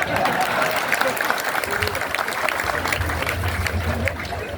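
An audience at a Gujarati dayro folk gathering claps together, a dense, even wash of applause that holds steady for several seconds, with a low murmur underneath.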